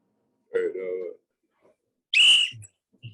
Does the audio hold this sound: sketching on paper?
no